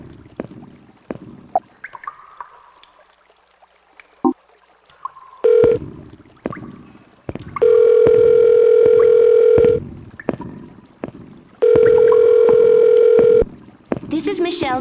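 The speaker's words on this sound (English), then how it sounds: "This is Michelle's phone. Sorry I can't answer right now." A phone call rings out in the video game Silent Hill Shattered Memories: two long, loud, steady ringback tones with a pause between them. Scattered clicks, short beeps and game sounds come before and between the tones.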